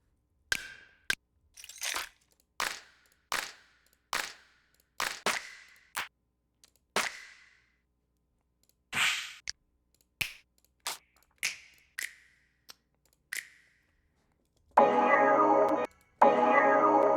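Snap samples auditioned one after another for a glitch hop track: about fifteen sharp, dry finger-snap hits spaced unevenly across the clip, followed by a dense burst of sustained bright noise near the end.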